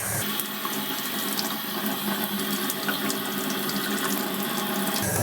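Tap water runs steadily into a sink while parts of a Hoover CleanSlate upholstery spot cleaner are rinsed under it, a close, continuous splashing hiss that cuts off abruptly near the end.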